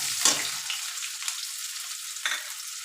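Chopped onion dropped into hot oil spiced with cloves and whole cumin for a Bengali katla kalia, giving a faint, steady sizzle with a couple of brief stirring scrapes.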